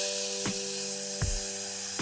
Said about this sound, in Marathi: अशी फोडणी मस्त तरतरली पाहिजे